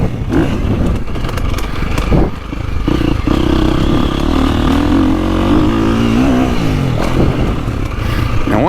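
KTM 350 XCF dirt bike with a six-speed gearbox, running a sand-dry base power map, its engine buzzing and revving hard and continuously, loud and close, with rising pitch as it accelerates through the gears.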